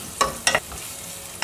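Chopped onions with curry leaves sizzle in hot oil in a pan, with a few sharp scraping stirs of a spoon over a soft frying hiss.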